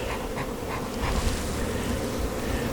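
Honey bees hum at an open hive during spring splits, making a dense, steady, close buzz that fills the whole moment with no voices.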